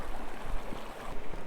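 The Izadkhast river rushes below an ancient arch dam in Iran, a continuous close, loud wash of flowing water with no voices.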